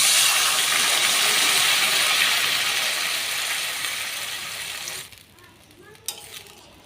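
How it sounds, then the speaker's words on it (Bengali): Water poured into a pan of fried potatoes and taro for a hilsa fish curry sets off a loud, broad sizzling hiss that gradually fades and drops away near the end, followed by a brief clatter. "এখন আমরা একটু দিয়ে দিচ্ছি পরিমাণ মতো জল।"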